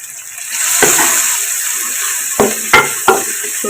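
Masala of onion, tomato, ginger, garlic, red chilli powder, salt and turmeric frying in a pan for chicken paye, a steady sizzle broken by a few sharp clacks of stirring.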